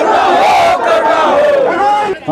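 Large crowd packed into a pandal at a Buddhist dhamma gathering in Mau, a loud continuous roar of many voices with cheering and shouting that dips briefly at the end.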